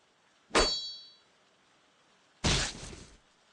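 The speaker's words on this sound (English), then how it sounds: "Shield shatter, now you're vulnerable." Two sharp metallic clang-and-shatter bursts from a shield-breaking effect in the fantasy strategy game Queen's Wish, the first a bright ringing crack, the second a broader crunching burst about two seconds later, both loud and alone.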